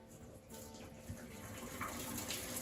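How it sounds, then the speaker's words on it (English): Hot water poured off freshly cooked, steaming potatoes, a steady broad gush and splash lasting the whole stretch at moderate loudness, with no voices. "Steaming hot, so you dump out all the excess water."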